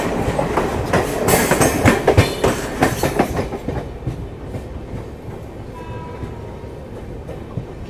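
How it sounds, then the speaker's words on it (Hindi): India's Gatiman Express speeds through Mathura Junction in the evening, a loud close rush with rapid clickety-clack of wheels over rail joints that fades into a duller rumble as the train passes. "यहाँ पे अपनी इंडिया की सबसे फास्टेस्ट ट्रेन मथुरा जंक्शन को स्किप कर रही है"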